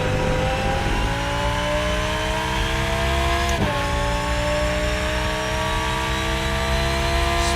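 A race car engine in the video game RENNSPORT drones steadily at high revs, with one quick sharp pitch dip midway as it shifts, loud and close with no talk.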